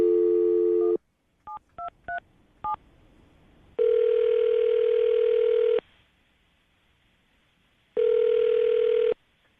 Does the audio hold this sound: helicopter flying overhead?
no